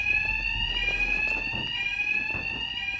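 Continuous fire alarm ringing inside a Batman: Arkham Knight mission, a steady electronic bell tone with shrill harmonics holding loud and unbroken throughout, with faint muffled thumps and movement underneath.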